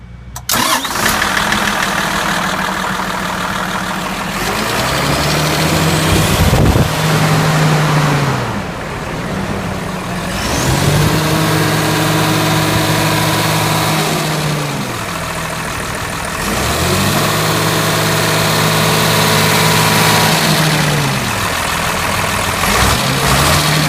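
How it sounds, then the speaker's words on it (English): A Komatsu WA250 wheel loader's engine starts and runs, loud and close, its note swelling and settling in repeated cycles between steadier idling stretches. "So we're going to run the loader in the next clip."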